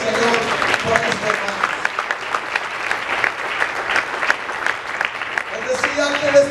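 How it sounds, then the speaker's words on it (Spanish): A church congregation at Templo Cristiano Getsemani in Apopka, Florida breaks into loud, sustained applause, dense clapping filling the space for several seconds, with a voice and faint music tones emerging near the end. "¿Cuántos le pueden dar un aplauso al Señor por esto,"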